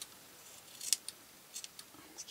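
Scissors snip a doll's hair while making Christmas tree decorations, with a few quick, faint clicks and one sharper cut standing out in a quiet room.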